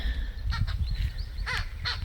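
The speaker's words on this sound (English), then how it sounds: "what can I hear up there? Some sort of birds." Crows cawing in the outback near a quarry camp by Carnarvon Gorge, several harsh calls in quick succession at moderate distance over a steady low background rumble.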